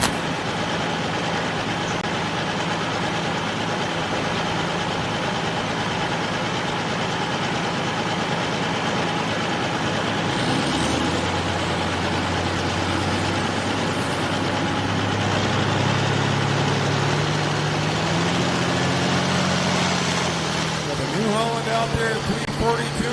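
A John Deere Super Farm tractor at a truck and tractor pull idles in a steady low rumble, then the engine note rises and shifts near the end, heard beneath an announcer's voice over the arena.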